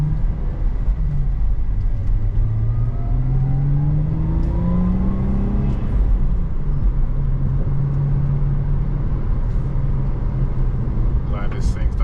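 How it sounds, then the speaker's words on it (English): A turbocharged Lexus IS300 on BC Racing coilovers cruises onto a freeway, its engine droning and rising through gears as it accelerates, with steady road and wind noise underneath. "I'm just gonna hop on the freeway now and kind of see how it drives"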